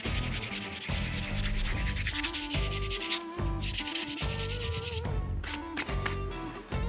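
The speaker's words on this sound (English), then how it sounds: "Now we're going to hand sand everything up to 220." Wood being hand sanded with sandpaper up to 220 grit: steady, close back-and-forth rasping strokes repeated continuously, loud and alone with no talking.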